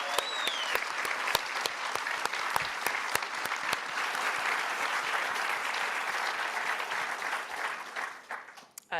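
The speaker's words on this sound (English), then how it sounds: "And I just want to encourage one more round of applause for this incredible dialogue tonight." An audience at a civic evening event about reimagining cities gives a long, full round of applause after a dialogue, with sharp individual claps standing out before it thins and fades near the end.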